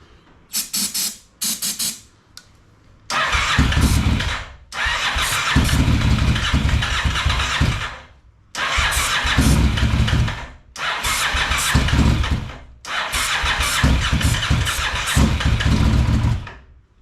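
A Honda VTR 1000 motorcycle engine under rebuild cranks in several short bursts, then catches and runs loudly in long roaring stretches broken by brief pauses, close to the microphone.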